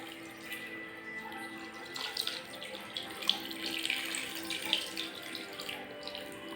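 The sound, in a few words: pouring soy sauce into pork adobo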